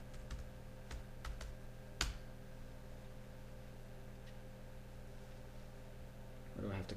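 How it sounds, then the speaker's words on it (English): Keys clack on the small keyboard of an ASUS EeePC 900 netbook as a password is typed, a few sparse taps and one sharper click over a steady faint hum. "Let's type in a password."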